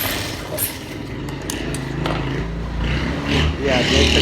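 A motor-driven sewing machine runs steadily while stitching a men's shirt collar, with a continuous low mechanical whir and rattle and someone talking over it.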